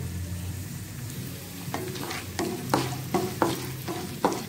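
Mustard seeds, urad dal and dried red chillies frying in hot oil make a close, lively sizzle with repeated sharp spattering crackles and seed pops that grow busier toward the end.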